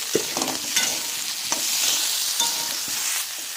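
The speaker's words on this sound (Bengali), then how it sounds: "ওর মধ্যে কেটে রাখা টমাটোগুলোকে দিয়ে দেব আগে আবারও কষাবো" Chopped tomatoes with ginger and garlic sizzle in a pan, the steady frying hiss broken by a few scraping stirs of a spoon, close and alone.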